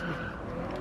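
A car skids in a racing video game, a brief, fairly faint tyre squeal over a continuous engine and road roar.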